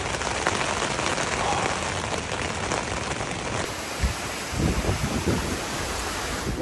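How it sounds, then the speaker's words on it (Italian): Rain and strong wind beating on a tent while camping on a bicycle trip from Catania to Palermo in Sicily, a steady broadband patter and roar throughout with a few thumps near the end. "sta piovendo e sta tirando un forte vento"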